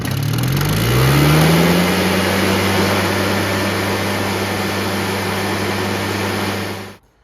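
A Husqvarna 150 BT backpack leaf blower engine fires up with a rising rev from about one-third throttle, then settles into a loud, steady drone close by before cutting off abruptly near the end.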